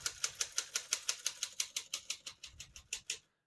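Keys strike steadily on a 1945 Smith-Corona portable typewriter, about sixteen crisp, evenly spaced clacks in quick rhythm, fairly quiet and close, with no voices.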